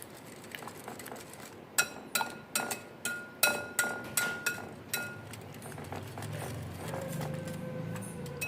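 An egg mixture with chilli is beaten in a bowl, making a quick run of regular clinks and taps against the bowl that fades into soft stirring at the end. Faint and close.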